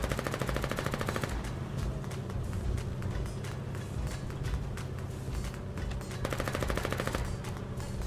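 Automatic and rapid gunfire from a battle in the war game Foxhole, around a barge at Fisherman's Row. Dense bursts of machine-gun fire and scattered single shots run continuously at close to middle distance, with no talk.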